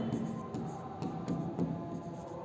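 A differential equation is chalked or marked on a board, giving a steady scratchy rubbing with small tapping accents, continuous and fairly close under room noise.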